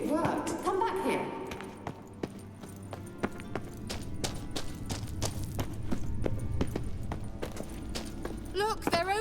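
The horse Kelpie's hooves clip-clop in The Witcher 3, a quick, steady run of sharp hoof strikes with a brief whinny near the start and speech mixed in.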